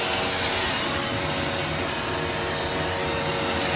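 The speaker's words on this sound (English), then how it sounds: "this thing is a hair dryer" A hair dryer blows steadily with a loud, constant whooshing roar and motor hum, unchanging from start to finish.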